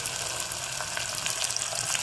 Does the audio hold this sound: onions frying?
yes